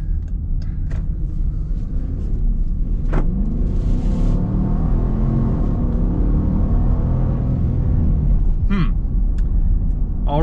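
A 2021 Dodge Durango SUV engine rumbles steadily while driving and turning, with a loud, constant low drone and some road noise. Voices speak over it.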